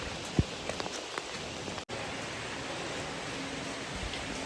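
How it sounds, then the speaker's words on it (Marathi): Steady rain patters on a surface with a dense, even hiss during the walking pilgrimage to Vaishno Devi, with a few sharper drops and a brief break in the middle. "अजून पाऊस काय थांबत नाही"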